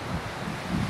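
Ocean waves and surf wash steadily on a breezy shoreline, with wind buffeting the microphone in a continuous low rumble through the short moment.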